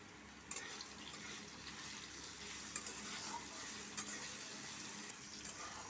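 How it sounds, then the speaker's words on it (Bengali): Potato pieces fry in mustard oil in a pan with cumin seeds and a little salt, giving a faint, steady sizzle broken by a few sharp clinks and stirring scrapes, with no voices. "প্রথমে আলুটা ভেজে নিচ্ছি"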